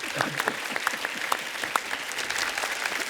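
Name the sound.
audience applause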